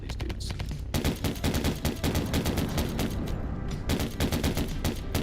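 Rapid bursts of missile and weapon fire in the House Fighters video game, dense repeated sharp blasts in quick succession after a brief lull, loud and continuous.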